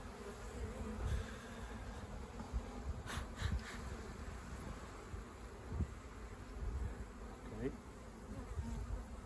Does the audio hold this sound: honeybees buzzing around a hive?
yes